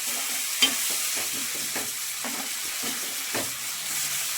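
Capsicum and tomato chutney being stirred in a pan with the stove switched off, a spoon scraping in steady repeated strokes about every half second over a faint residual sizzle, close and alone.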